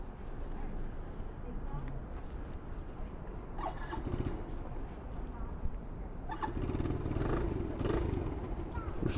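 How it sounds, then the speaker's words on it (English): A 2015 SYM Symba motorcycle, new and still in break-in, rides through city streets with a steady low engine drone that rises and falls as it accelerates, mixed with wind and traffic. "We're about to go for a first ride on my new bike, the 2015 SYM Symba"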